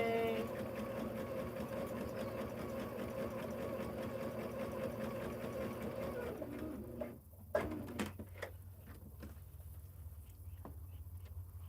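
A sewing machine runs steadily, sewing hexie quilt pieces with a continuous whirring hum for several seconds, then stops, leaving a few clicks and handling taps in a quiet room.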